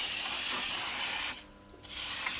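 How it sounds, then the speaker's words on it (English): A steady hiss of a canola oil cooking spray can over fish, broken by a short pause before spraying resumes, close and fairly quiet. "this is a canola spray oil. So just spraying the"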